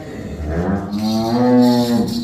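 A dairy cow at a cattle farm moos once, long and loud, its low call rising and holding close by.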